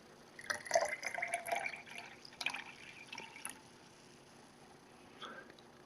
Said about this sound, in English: so I'm going to pour a little water